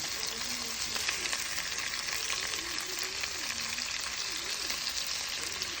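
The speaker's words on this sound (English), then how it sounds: "Keep moving your fish around every 3 minutes so all sides can get cooked." Salmon frying in a pan gives a dense, steady sizzle and crackle throughout, close and even, with a faint murmur of voice in the background.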